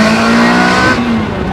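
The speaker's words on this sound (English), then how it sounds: "when it opens up, it is quite loud. I mean, listen to this. Second gear." A Ferrari 360 Spider with its original exhaust screams loudly as it accelerates hard in second gear, the engine note rising close up and then easing slightly at the end.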